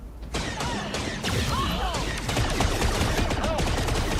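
Automated turrets opening fire in Star Wars Outlaws, a dense, continuous barrage of rapid blaster shots with whooshing and mechanical clatter, loud and close throughout, with brief speech-like sounds mixed in.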